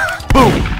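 A sniper shot goes off in the Roblox game Murder Mystery 2 as a single sharp, loud crack, followed by a short game-sound tail.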